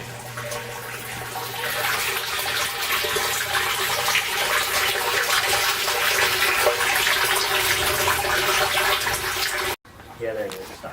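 An aquaponics pump drains water and then begins sucking air, making a continuous rushing, gurgling flow that cuts off abruptly near the end, followed by a short voice.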